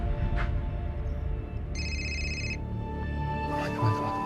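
A telephone rings unanswered indoors, a single clear electronic ring pattern lasting about a second over steady low background hum.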